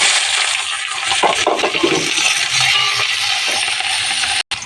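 Green chillies and chopped onion go into hot oil already holding dried red chillies, panch phoron and bay leaf, producing a loud, dense, close sizzle with a few clatters, cutting off abruptly near the end.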